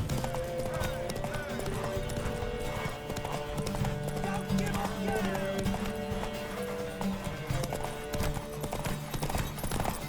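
Horse hooves clip-clop in The Witcher 3: Wild Hunt, a steady rhythmic trot running throughout with game music and character voices over it.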